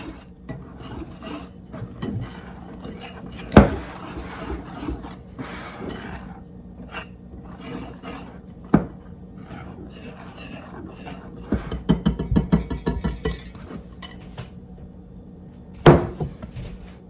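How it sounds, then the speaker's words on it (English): Dry ingredients with baking powder are whisked in a bowl, giving irregular scraping and rubbing strokes with sharper taps against the bowl, close and moderately loud, with occasional light clatter. "We are going to whisk this together and set it aside."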